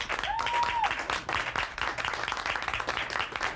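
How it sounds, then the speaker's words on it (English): Studio audience clapping for Mr. Wonderful on a wrestling talk show, steady moderate applause with a brief tonal sweep near the start. "By way of applause, let's hear it for Mr."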